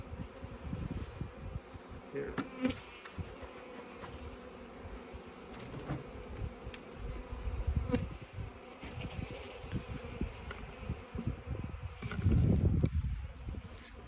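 Honey bees buzz in a dense, continuous drone around a hive frame being shaken over a weak colony. The swarm hum is fairly quiet and close, with scattered knocks and a louder swell near the end.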